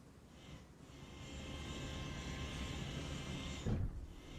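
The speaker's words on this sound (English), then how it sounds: "I hear a helicopter." Helicopter in the Arma Reforger military video game, its steady engine and rotor drone droning continuously with a brief louder thump near the end, no talking.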